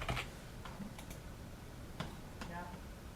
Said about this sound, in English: start typing some stuff in here